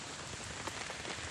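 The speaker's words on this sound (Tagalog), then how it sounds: "Lakas ng ulan dito." Heavy rain pouring down outdoors in Sampaloc, Talisay, a dense steady hiss of drops hitting surfaces with no talking.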